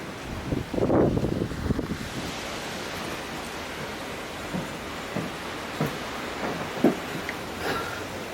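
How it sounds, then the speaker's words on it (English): Gusty outdoor wind buffets a camera microphone on a blustery day, producing a steady broadband rumble with louder gusts and intermittent bumps and thuds. "it's really windy today"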